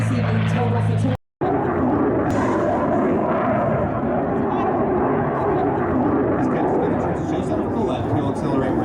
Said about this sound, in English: He'll accelerate rapidly to snap the fighting falcon for 3 aileron rolls, demonstrating its exceptional rolling maneuverability.